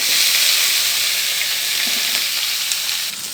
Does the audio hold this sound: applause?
no